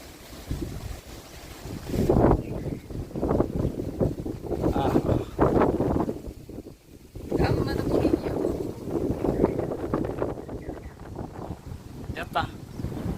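Strong, gusty wind ahead of a rainstorm buffets the microphone in a steady roaring rush that swells and dips, with voices talking over it.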